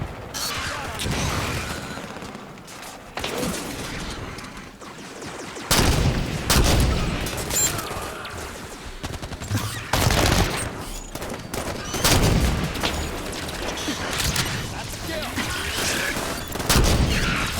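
Gunfire in Halo 5 comes in repeated loud bursts and single shots, mixed with mechanical clanks and rattles, in a busy, close battle that runs throughout.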